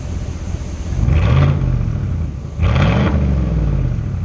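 A 2019 Chevrolet Silverado with a 5.3 V8 and its muffler deleted revs twice in quick succession, each rise swelling out of a loud, close, raspy exhaust idle and settling back.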